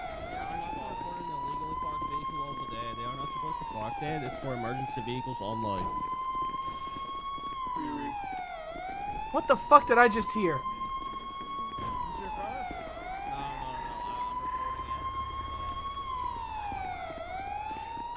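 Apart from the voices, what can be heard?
police car siren in a video game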